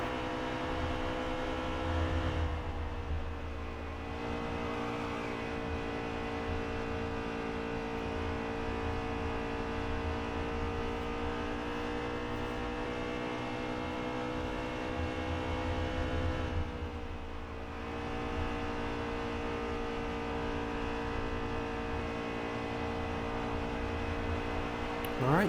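Race car engines roar steadily through a NASCAR Heat 3 Cup playoff race at Las Vegas, a continuous loud droning whine with shifting pitch as cars circle the track, with no talk over it.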